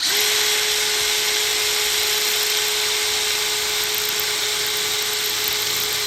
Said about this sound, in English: We can drill through now